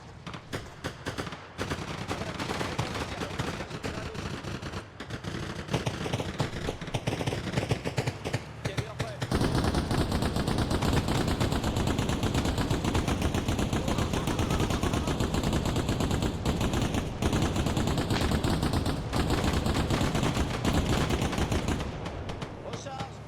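Sustained bursts of 12.7 mm heavy machine gun fire from the Arma Reforger game, loud and near, pounding almost continuously through the second half with sporadic shots before, while players talk over it.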